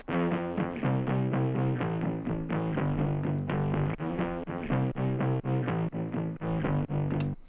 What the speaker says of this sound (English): this is just me playing the electric guitar. Just the bass notes, and then it's pitched down, and then some distortion, a bit of reverb, some EQs